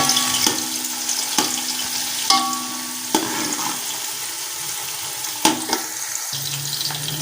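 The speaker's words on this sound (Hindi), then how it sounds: "घी हमारा बिल्कुल रेडी हो गया है। अभी प्याज डाल लेते हैं।" Steady sizzling of chopped onions frying in hot ghee, with occasional clinks and scrapes of a utensil in the pan, no voices.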